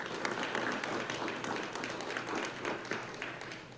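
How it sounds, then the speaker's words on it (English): Audience applause fills a school board of education meeting, steady dense clapping from a roomful of people at moderate distance, holding evenly for several seconds with no talk over it. "let's give them a round of applause"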